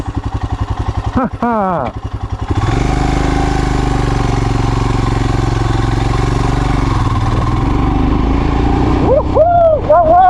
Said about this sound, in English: Let's hear the exhaust sound.